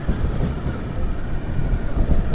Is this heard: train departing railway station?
yes